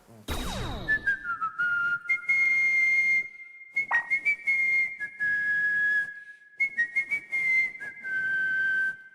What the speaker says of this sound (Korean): 휘파람을 분다고?